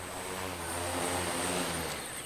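A custom-built logging drone flies over felled, bucked timber, its propellers producing a steady, loud, sustained buzzing drone with a high whine and no voices.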